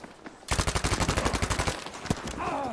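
Rapid automatic gunfire from a Battlefield V multiplayer match on the Mercury map, a long, loud burst of evenly spaced shots lasting about a second and a half, followed by a single sharp report and a rising whine.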